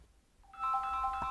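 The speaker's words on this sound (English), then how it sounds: "I'm getting a phone call." A phone ringtone for an incoming call starts after a quiet moment and keeps playing as a bright repeating melody, close and fairly loud, with no one talking over it.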